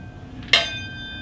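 A metal Parisian cocktail shaker is struck once and rings out like a small bell, with a sharp attack and a clear, sustained metallic tone that slowly decays against quiet room noise.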